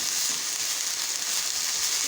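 Carrots for a chicken and vegetable samosa filling cook in a hot pan, giving a steady, even frying hiss with no pauses and no voices.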